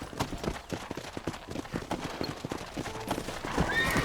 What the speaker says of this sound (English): Go on. Hit your horse and wait for me by the stable.